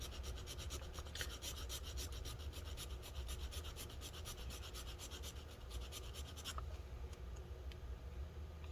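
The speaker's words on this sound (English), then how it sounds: "we'll see if filing off this plastic will help" A file rasps steadily across melted plastic on an Eluktroniks Eluktro Pro P650HP Clevo laptop, close and continuous with rapid back-and-forth strokes and no talking.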